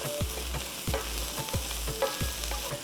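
Onions, garlic and bay leaves frying in a pan, soft sizzling broken by four regular scraping stirs of a utensil, fairly quiet and close, no talk.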